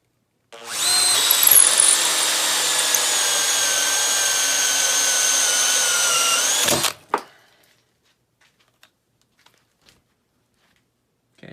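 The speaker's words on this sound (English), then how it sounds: "We'll start with the XPH10, the brushed drill, with a hole saw into some 3/4 inch plywood." A Makita XPH10 brushed cordless drill runs a hole saw into 3/4 inch plywood, a loud close whine with steady pitch for about six seconds, cutting off with a clunk as it breaks through, then near silence with a few small knocks.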